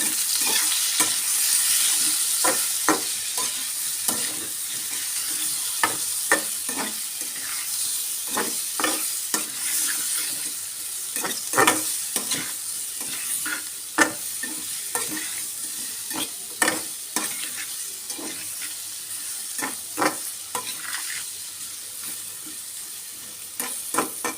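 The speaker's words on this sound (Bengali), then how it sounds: "এগুলো আমি ভালো করে একটু কষাই নেবো" Chili powder, turmeric and salt are sautéed in a pan, heard as a steady sizzle broken by frequent rhythmic scrapes of a spatula stirring across the pan for over twenty seconds, with no talk.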